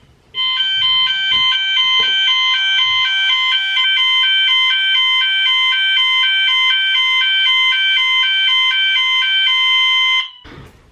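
A household fire alarm blares a loud, steady high-pitched electronic tone for about ten seconds, starting abruptly and cutting off just as suddenly.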